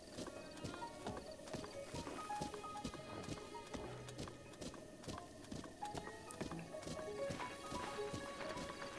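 Horse hooves in The Legend of Zelda: Breath of the Wild, a quiet, steady clip-clop of trotting that repeats evenly over soft game music throughout.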